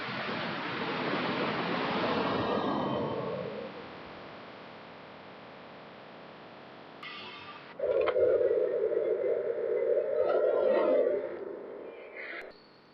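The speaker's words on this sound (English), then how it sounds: "You can still hear the waves in the background." Broad, steady roar of ocean surf breaking on a shore, loudest at first and then fading to a faint, distant wash, with a voice briefly heard near the end.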